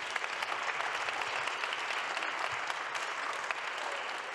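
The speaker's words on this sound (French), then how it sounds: "merci à Philippe-Jean Bousquet qu'on peut applaudir très fort." An audience in a hall claps loudly and continuously after a morning masterclass session, a dense even burst of applause with no talk over it.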